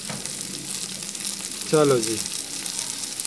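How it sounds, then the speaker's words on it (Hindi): Food frying in oil with crushed chilli and spices, a steady near sizzle throughout, with a brief spoken phrase partway through. "अब ये फ्राई होंगे, अभी मसालों के साथ ही फ्राई होंगे"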